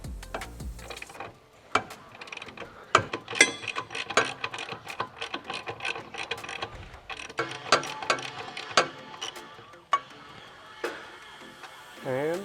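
Wrenches click and ratchet as nuts come off the rear toe bolts of a Nissan 350Z fitted with a Z1 rear tie bar, 19 mm holding the front and 17 mm on the back, irregular metallic clacks and bursts close by.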